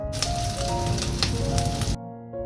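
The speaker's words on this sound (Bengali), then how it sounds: "বাইরে ঝমঝমিয়ে বৃষ্টি হচ্ছে, আর আমার ছাদটাতে যেহেতু টিনের শেড, আওয়াজটা কিন্তু তুলনামূলকভাবে অনেকটা বেশি হয়" Heavy rain drums on a tin roof shed, a loud dense clatter and hiss that cuts off abruptly near the end, leaving a faint hum.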